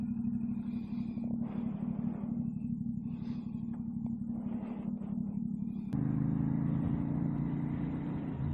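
A motorcycle engine idles in a steady, close, low rumble during a cold late-season ride near an Exxon station, growing noticeably louder and heavier partway through and holding there, with no talking.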